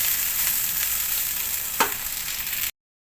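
Chicken fried rice sizzles loudly in a hot pan during stir frying, a steady bright hiss with one brief scrape of a spatula, ending abruptly.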